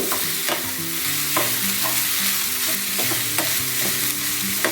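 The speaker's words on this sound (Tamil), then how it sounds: "இந்த வெங்காயம் நல்லா வதங்கணும், அப்போ தான் அந்த தோசை வந்து நல்லா மணமாக இருக்கும்." Chopped onions sautéing in a pan while making multigrain adai, with a steady close sizzle and repeated scraping stir strokes of a spoon against the pan, no voices.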